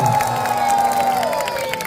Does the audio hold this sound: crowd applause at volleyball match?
yes